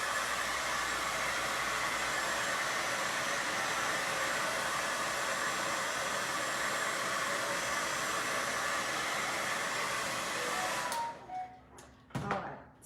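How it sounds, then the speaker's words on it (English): A blow dryer drying a Valentine's heart craft runs loud and steady in a continuous close whoosh, then cuts off near the end, leaving a few faint handling clatters. "I'm just going to hit it with a blow dryer again."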